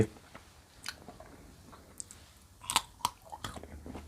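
Crisp chewing and biting of borapet, a bitter Thai herb cut into thick strands, with scattered crunches and sharp bites grouped near the end, close to the mic and fairly quiet.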